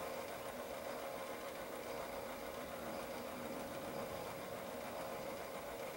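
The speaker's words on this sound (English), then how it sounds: "You can hear the motor running." A mini lathe motor runs with the feed engaged, a steady close mechanical hum and whine holding evenly at one level throughout, with no voices.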